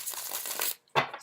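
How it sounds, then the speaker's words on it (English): Tarot cards riffle with a quick papery flutter for under a second, then a brief pause and one sharp slap as the deck is squared up. "Just going to give the cards a couple more shuffles here."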